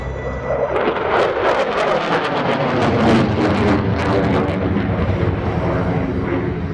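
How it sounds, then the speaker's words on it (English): A PACAF F-16C Fighting Falcon climbs during a demonstration at the 2021 Arctic Lightning Airshow, its jet engine producing a loud, sustained roar that swells slightly in the middle and then holds steady. "you will see the F-16C's exceptional power and rolling capability as he climbs from 300 feet to"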